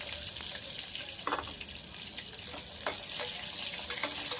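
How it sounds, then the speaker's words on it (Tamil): Chopped large onion with cashews frying in hot oil for prawn biryani, a steady close sizzle with occasional stirring clinks and scrapes, no talking. "இப்போ வெங்காயத்தை நல்லா வதக்கி விட்டுறலாம்"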